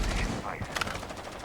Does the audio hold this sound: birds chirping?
no